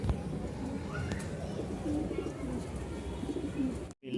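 Racer and Lahore pigeons at a pigeon market in Mirpur, Dhaka, coo softly in short low phrases over a busy background murmur, and the sound cuts out briefly near the end.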